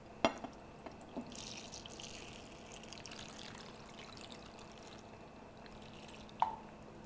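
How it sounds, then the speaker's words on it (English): Water pours steadily into a pot over Greek cabbage rolls weighed down with a plate, a soft continuous trickle and splash with a couple of sharp clinks near the start and end. "I'm just going to fill it with water just until the water comes all the way up to the plate"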